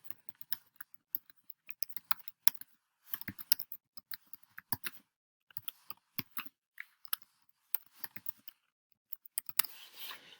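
Irregular clicks from a computer keyboard come in short, quiet bursts separated by pauses, up close in a silent room.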